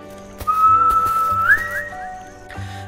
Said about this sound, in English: will make his presence known by the whistle